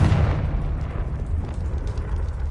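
Confringo fire-blast spell exploding in Hogwarts Legacy, a loud, sustained booming burst with heavy low rumble that rolls on for a couple of seconds without fading much.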